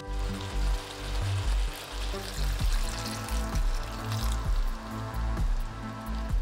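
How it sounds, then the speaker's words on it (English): Water splashes into a pan of cooking chicken liver, a close, continuous pour with sizzling bursts and small splatters. "I'm going to add some water."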